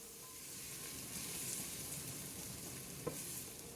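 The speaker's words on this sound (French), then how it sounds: "On ajoute l'ail, les oignons et le gingembre et on va faire revenir ça pour 30 à 45 secondes." Garlic, onions and ginger sauté in a thin layer of oil in a pot, a soft continuous sizzle with light stirring scrapes and one sharp clink near the end.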